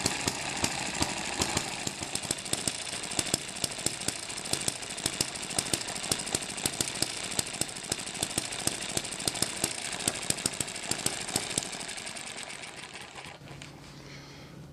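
An M94 hit-and-miss engine with a simplified governor runs alone, a rapid, even train of sharp mechanical knocks and clatter that continues steadily before cutting off near the end.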